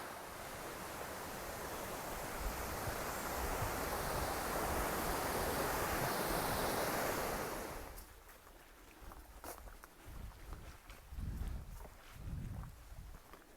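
Steady rushing water from a creek beside a campsite near Baker Lake fills the first eight seconds, then fades to quieter outdoor ambience with faint rustling and soft knocks.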